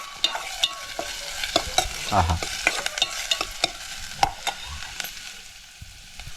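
Chopped onion fries in a spiced tempering in a pan on a wood-fired stove. A continuous soft sizzle runs beneath frequent close, sharp stirring taps and scrapes, easing off near the end.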